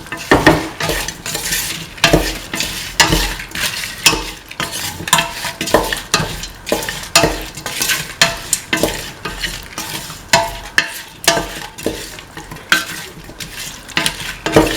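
Close, continuous stirring of a mint chicken coconut milk stew in a pan, with rhythmic utensil scrapes and clanks over a constant sizzle.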